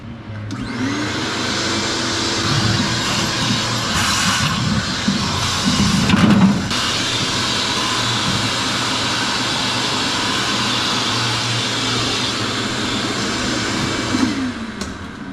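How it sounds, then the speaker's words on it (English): A vacuum cleaner roars steadily at close range with a constant whine, briefly shifting pitch midway as the skinny nozzle moves inside a 1953 Chevy 3100 truck cab, no talking over it. "I just wanted to vacuum it out real quick"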